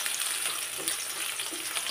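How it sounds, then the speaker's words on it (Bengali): Onion, green chilli, bay leaf, cinnamon and a few cardamom pods fry in a pan, giving a steady, close hiss of sizzling oil with faint stirring, no voices. "পেঁয়াজ আর কাঁচামরিচ দিয়ে দিচ্ছি, তেজপাতা, দারুচিনি, কয়েক পিস এলাচ, সবগুলো মশলা একসাথে একটু ভাজি ভাজি করে নিতে হবে।"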